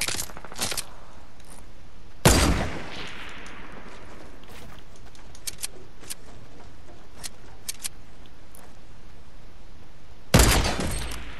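Sniper rifle fire in a video game: two loud, sharp cracks several seconds apart, with a few lighter bursts and clatter in between, and no talk.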